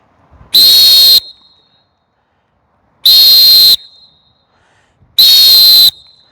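A Helix plastic coach whistle is blown three times, each a loud, piercing, steady blast lasting about half a second, separated by roughly two seconds of near silence.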